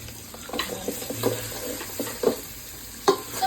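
Chicken curry ingredients sautéing in a pan, a soft sizzle with repeated scraping stirs and a few sharp clinks of a spoon against the pan, close by and without voices.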